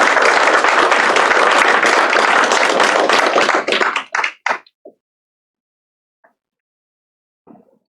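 An audience at a technical college signing day claps for students, a loud dense burst of applause lasting about four seconds that breaks into a few scattered claps and then fades to silence.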